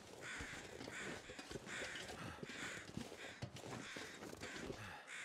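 Crows cawing in The Long Dark, a video game: harsh, repeated caws arriving in an irregular rhythm from one or more birds, fairly close and alone over a low wind-like bed.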